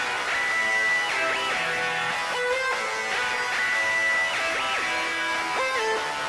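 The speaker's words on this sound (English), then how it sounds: "altogether, your main melodies and your counter melody will sound like this." A grungy, heavily distorted trap beat's main melodies and counter melody play together, sustained synth lines with gliding pitch bends in a repeating phrase, dense and loud with no drums or voice.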